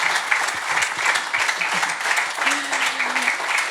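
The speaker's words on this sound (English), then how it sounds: "Please give a round of applause for Rankin." An audience claps steadily in sustained applause, a dense patter of many hands, with a brief vocal sound rising over it.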